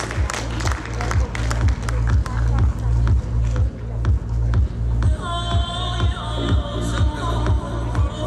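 A live audience claps for a producer at a movie promotion event in Vijayawada, steady sustained applause under music with a pulsing bass beat throughout.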